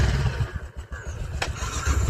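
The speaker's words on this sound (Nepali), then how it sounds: "ल ल बाइक स्टार्ट हान्दैन त" A motorcycle engine being started gives a low, rough rumble with a sharp click partway through, with no voices heard.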